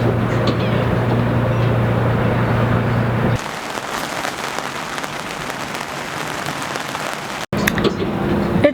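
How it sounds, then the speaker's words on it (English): Rain falling around a sailboat moored in a kayaking town, a steady broadband hiss of drops on the surface that shifts in texture partway through, with a brief cut near the end. "It's raining."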